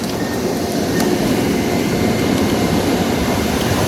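A Weped Night Rider 40,000W electric scooter with 16-inch wheels accelerating, a steady loud rushing whir with wind and road noise throughout, no talk.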